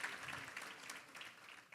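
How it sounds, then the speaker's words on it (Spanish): A church audience claps for the pastor's helpers, a soft, fairly distant patter of applause that continues evenly for a couple of seconds. "denle un aplauso a mis ayudantes hoy"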